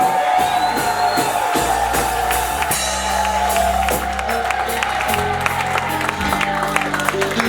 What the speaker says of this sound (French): Acclamation pour Emmanuel ce matin.